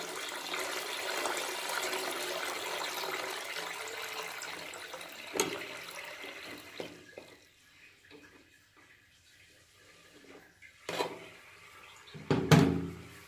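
Water rushes into a toilet cistern after the angle valve is opened, a steady loud flowing hiss that fades as the tank fills, followed by a few knocks and clunks.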